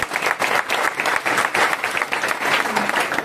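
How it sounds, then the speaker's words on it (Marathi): An audience at a devotional kirtan claps loudly and continuously for a pakhawaj drummer, a dense close burst of applause from a crowd. "पकवाजासाठी जोरदार टाळी वाजवा."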